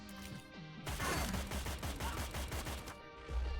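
Rapid bursts of video game gunfire in Cyber Knights: Flashpoint, with sharp, dense cracks and booming low rumble, sustained for a few seconds with no talking.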